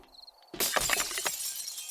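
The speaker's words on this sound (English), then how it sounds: "And this one is the breakable glass." Breakable glass shattering in the video game 7 Days to Die: a quiet lead-in, then one sudden loud crash with a scatter of tinkling shards that trails off over about a second, with no talk.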